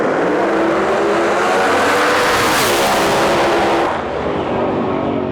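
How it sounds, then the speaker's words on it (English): A drag race between a 1949 Mercury and a sixth-generation Camaro fills the air with loud, roaring engines screaming down the strip, a sweeping rise in pitch, then an abrupt drop as they pass, with no voices heard. "Next pair, we got Craig Sullivan with his 49 Mercury, far side of the track, and the Carolina kid here, Travis Harvey in our lane with a 6th gen Camaro"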